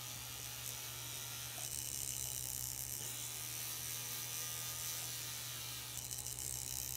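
A jeweler's finer polishing wheel spins against a gold ring set with a sapphire, making a steady, quiet mechanical whir with a constant low hum underneath and small shifts in tone as the ring is worked.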